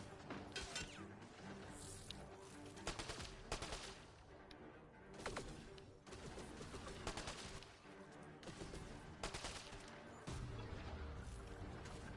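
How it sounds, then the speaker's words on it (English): Bursts of weapon fire and impacts rattle through a firefight in Mass Effect Andromeda at the Vault on Aya, with irregular volleys, crashes and thuds layered over a continuous game soundtrack. "Where am I taking fire from?"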